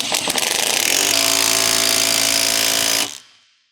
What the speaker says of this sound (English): Using the 19 mm deep socket and impact wrench,